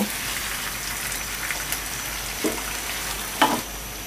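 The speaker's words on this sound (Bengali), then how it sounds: "মশলার সাথে মুরগিগুলোকে ভালোভাবে মাখিয়ে নিব।" Chicken pieces tossed with oil-rich spice masala in a hot frying pan for Bengali shahi chicken roast, a steady close sizzle with a couple of brief scraping stirs, no talk.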